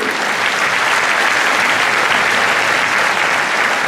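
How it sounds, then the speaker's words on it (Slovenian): Concert audience giving a big round of applause, a dense continuous roar of many hands clapping at steady, loud volume throughout. "En velik aplavz za vse 3!"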